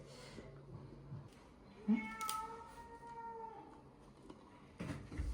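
A cat meows softly once, then a longer drawn-out meow follows, fairly faint against a quiet indoor background.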